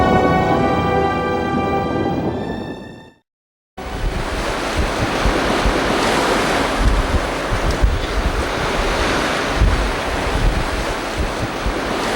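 Sea waves wash steadily along the Hwabuk coast of Jeju, a continuous broad roar of surf with wind buffeting the microphone, loud and close, after a brief musical tone and a moment of silence.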